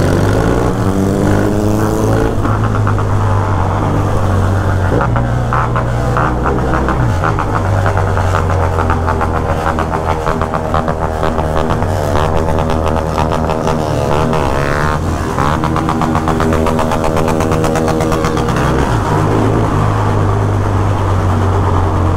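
A BMW GS 1200 motorcycle engine drones loudly and steadily throughout, its pitch climbing and dropping as it revs through the gears, with no voices.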